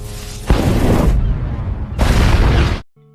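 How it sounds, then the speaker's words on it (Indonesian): Two loud, heavy explosion blasts in a film roar in quick succession, each a dense rumbling burst lasting about a second before cutting off abruptly. "Karena ketidakstabilan Zephyr tersebut membuatnya terus saja menjadi panas dan lama-kelamaan meledak."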